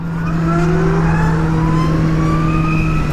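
A Zero SR electric motorcycle accelerates with a smooth, rising electric whine layered over a steady hum, loud and close, no speech.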